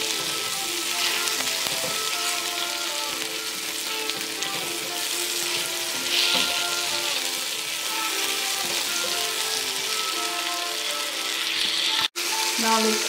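Tomatoes sizzle in a pan for Tuscan butter shrimp pasta, a steady, even crackling hiss that runs unbroken over a faint tonal background.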